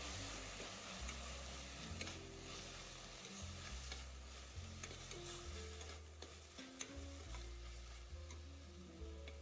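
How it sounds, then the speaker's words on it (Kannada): Onions and tomatoes fry and sizzle steadily in a pan for a soya chunks gravy, with occasional stirring scrapes and faint low tonal hum throughout, no voices. "ಈಗ ಈರುಳ್ಳಿ ಮಗ್ಗಿದೆ, ಟೊಮೊಟೊ ಹಾಕ್ಕೊಂತಿದ್ದೀನಿ."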